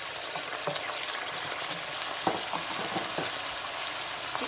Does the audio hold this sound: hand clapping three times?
no